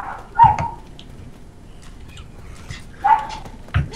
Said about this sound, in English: I can hear your dog barking